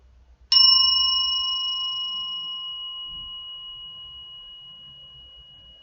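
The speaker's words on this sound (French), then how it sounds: "on peut simplement inviter le son de la cloche" A single meditation bell strike rings out clearly, then a pure, sustained tone slowly fades over several seconds in otherwise quiet surroundings.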